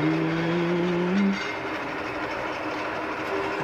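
Train arriving in the video game The Charnel House Trilogy, a steady rumbling rail noise with a brief tonal hum early on that fades, then a continuous low rolling drone, no talk.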